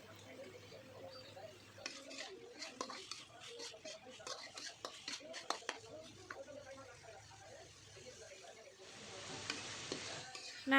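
Chicken pieces stirred and frying in a pan on a home stove, a steady low sizzle with soft clinks and scrapes from a utensil, fairly faint and continuous throughout.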